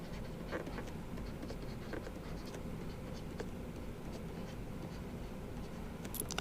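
Chalk scratching and tapping steadily across a classroom board during a lecture, a continuous close scraping texture with small ticks and no talk over it.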